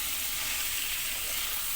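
Onion fries in a pan with a steady, even hiss of sizzling oil that holds at the same level throughout, with no pops or voices.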